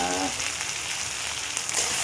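Onions frying in a pan before tomato and ginger, chilli, cumin and mustard pastes go in, a steady close sizzle with faint stirring scrapes throughout, no voices.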